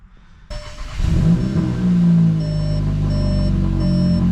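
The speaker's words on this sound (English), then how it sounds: "So we're gonna start the car now, let the oil circulate." A 2022 Volkswagen GLI engine cranks and fires after an oil change, then settles into a steady idle, with a repeating electronic warning chime beeping over the running engine.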